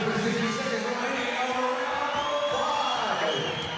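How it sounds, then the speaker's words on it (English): Boisterous fight-night crowd at a boxing bout, Nikita Tszyu vs Michael Zerafa prelims, cheering and yelling loudly and continuously as punches land, with shouted voices rising above the din. "the Reeves army involved, cheering every punch of the moment"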